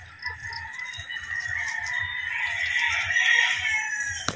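A pure Melsim gamecock crows and clucks in a flying pen, its long loud crow held steady over a soft repeated low clucking.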